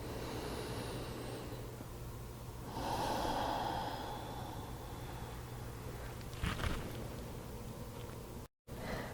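A single slow, deep breath drawn in during a calm meditation session, soft and close, rising briefly over a faint steady background hum with no talking.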